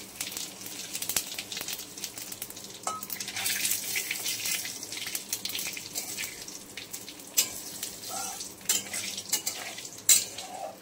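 Cumin, cardamom pods, dried red chillies and bay leaf frying in oil for a sole fish curry, a quiet sizzle broken by spoon stirring and scraping clinks against the pan, with no talk.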